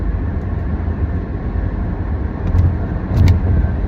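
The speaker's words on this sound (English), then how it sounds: "I'm driving to school right now." Car on the way to school, heard from inside the cabin: a steady low road and engine rumble with tyre noise, swelling slightly toward the end, with no talking.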